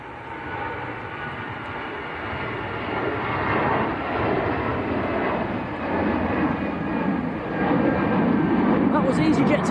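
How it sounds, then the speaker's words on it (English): An EasyJet airliner departs Manchester Airport bound for Hamburg, its jet engines roaring as a broad, steady rumble that grows gradually louder and holds, with people talking over it. "That was EasyJet to Hamburg."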